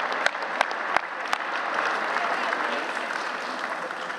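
A gala crowd of more than 300 people bursts into sustained applause honoring Jewish women partisans, with a few sharp claps up front, then a dense, steady roar of hands filling the room with no talking.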